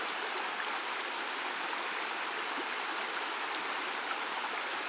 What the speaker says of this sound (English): Stream is probably doubled in width. Definitely moving a lot faster.